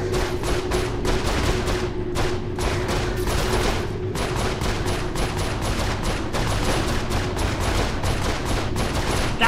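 Gunfire in the Saints Row 4 game on PC, dense rapid bursts of automatic shots going on nonstop, loud and close.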